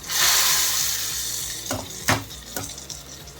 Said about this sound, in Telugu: స్టవ్ ఆఫ్ చేసి తాలింపుని ఈ చారులో పోసేసుకుందాం